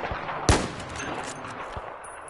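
Battlefield 4 gunfire crackles in a single sharp, loud shot followed by a fainter second report, set against a low ambient game background.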